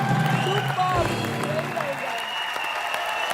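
Studio audience applause on a Hindi television entertainment show, a dense, steady wash of clapping heard at full volume with voices and tonal sounds mixed in.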